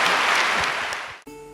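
A church congregation applauds at a Catholic priest's sermon, a dense, loud wash of clapping that tapers and cuts off abruptly into a brief musical tone.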